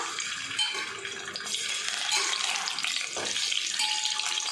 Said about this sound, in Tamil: முட்டை சேர்த்து இந்த எண்ணெயில் நல்லா பொரித்து எடுத்துக்கலாம்.